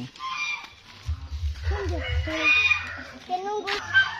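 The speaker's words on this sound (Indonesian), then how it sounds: "Oh, ada ayam." A rooster and chickens cluck and call nearby in a farmyard, the bird sounds mixing with people talking and low background rumble.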